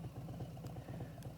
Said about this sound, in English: I'm going to roll that throttle, hear the engine revving